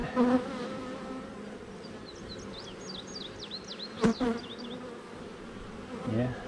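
Honeybees at an opened beehive during a swarm inspection, a steady close buzzing hum with individual bees zipping past, occasional handling knocks and a brief sharp click.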